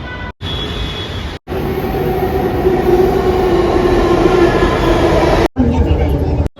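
Loud, continuous rumble and whine of a metro train in motion in Karnataka, broken by a few abrupt cuts, with a faint rising squeal.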